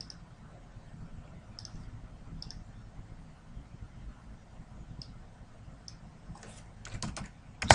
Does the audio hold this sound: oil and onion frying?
no